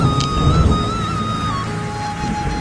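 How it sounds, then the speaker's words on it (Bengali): Heavy rain pours down in Gazipur, Bangladesh, a dense, steady hiss close by with no letup, faint tonal whines running through it. "এই যে দেখেন কি পরিমাণ বৃষ্টি গাজীপুরে হচ্ছে"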